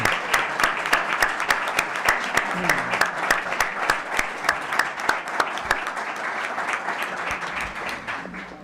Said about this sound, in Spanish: Vamos a darle un aplauso a Enrique.